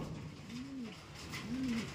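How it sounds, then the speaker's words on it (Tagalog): Young racing pigeons coo twice in a loft, each soft rising-and-falling call close and clear against a faint hiss of rain. "Ayun yung tatlo nating mga young bird, mga Abel."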